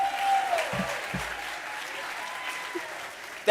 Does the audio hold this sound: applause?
yes